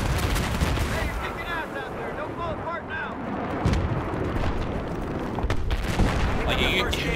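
Gunfire and heavy explosive blasts in a Battlefield 3 multiplayer battle, a dense, continuous wash of shots and booms with scattered louder hits under a steady, noisy background; no talk.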